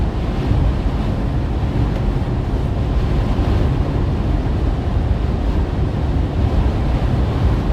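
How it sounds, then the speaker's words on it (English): Strong blizzard wind roars steadily across open ground in Iowa or Nebraska, a loud, continuous buffeting rush that batters the microphone with no voices. "Really, really strong wind."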